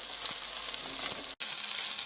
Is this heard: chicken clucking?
no